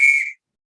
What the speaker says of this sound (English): I was explaining how to use the whistle signals.